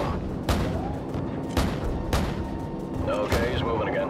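Gunfire in Call of Duty 4: Modern Warfare, with several sharp, loud shots and booms spaced a second or so apart over continuous battle noise, and voices speaking near the end.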